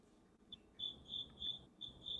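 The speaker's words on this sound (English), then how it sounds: "These crickets, girl, they got to go." Crickets chirp in several short, bright pulsed bursts at a steady rhythm, fairly close and clear over a quiet low background with no talking.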